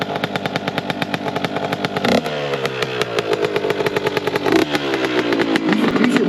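A dirt bike engine runs close by as it warms up on a farm, a loud, steady rapid putter with brief revs and shifts in pitch throughout.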